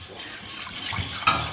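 A whisk stirs a honey and water mixture for mead in a pot, giving soft scraping and swishing strokes with a brighter metallic clink near the end, close by, with no talking.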